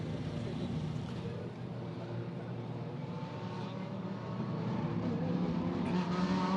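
A line of GT3 race cars leaves the pit lane at the Macau Grand Prix street circuit during qualifying, giving a steady, mid-distance engine drone that rises slightly toward the end.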